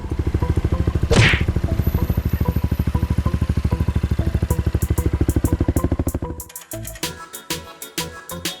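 A Honda Forza 350 scooter engine idles with a fast, even pulsing putter that is loud and close for about six seconds, then breaks into irregular clattering knocks and thumps.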